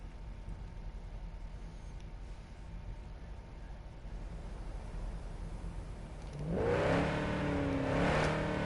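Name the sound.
car driving in video game Cyberpunk 2077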